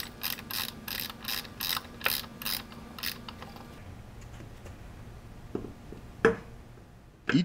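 Hand ratchet tightening an M10x55 hex bolt and washer on a car's final drive mount, a close, steady series of clicking strokes followed by a few clanks of the tool.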